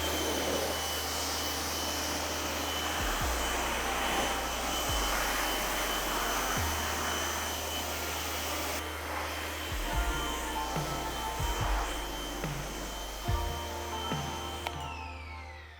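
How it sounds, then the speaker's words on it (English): A pressure washer rinses pre-soak off a car with a steady, loud hissing roar of water spray, while the pump motor beneath it cycles on and off in low pulses throughout. "then we're gonna rinse off all that pre-soak"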